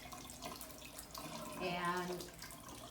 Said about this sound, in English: So the water is going into the speculum